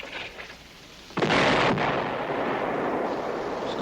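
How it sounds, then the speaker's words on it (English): Artillery searching fire in a war film lands as a sudden heavy boom that rolls into a long, sustained rumble, loud and close, with no talk over it. "Sounds like searching fire."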